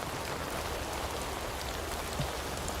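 A downpour roars steadily, thick continuous rain noise with scattered drops spattering close by.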